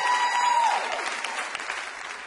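Studio audience of a live quiz show applauds loudly and continuously, a dense even wash of clapping with no talk over it.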